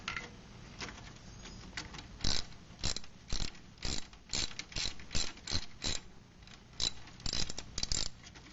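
A ratchet with a 10 mm socket on an extension loosens bolts on a 3.1L engine during EGR work, giving repeated bursts of sharp ratcheting clicks, close and clear, with short pauses between strokes.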